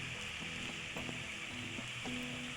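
Masala being stirred into egg omelet curry frying in a pan, a soft, continuous sizzle broken by several light scraping strokes of a spoon against the pan.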